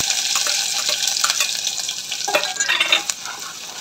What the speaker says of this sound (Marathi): तेल गरम झालेलं आहे, कांदा टाकून घेऊ।